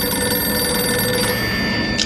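A telephone rings indoors in a 1995 drama, its bell a steady, unbroken tone held close and loud for the whole stretch, with no voices.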